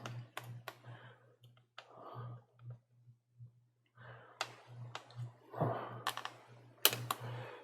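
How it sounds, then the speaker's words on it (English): Small screws are removed from a Nintendo Switch with a hand tool, quiet irregular ticks and clicks close up over a steady low electrical hum. "So remove these 2 screws here."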